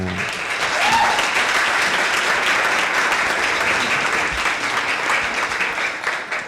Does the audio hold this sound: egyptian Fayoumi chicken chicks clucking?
no